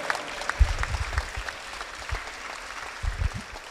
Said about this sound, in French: Société Laser Fusion, on peut l'applaudir,